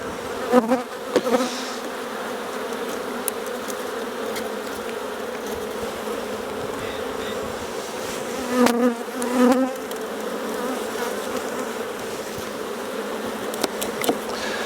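A dense, continuous drone of many honeybees buzzing close by around an open hive, with louder passes as individual bees fly near, ongoing throughout.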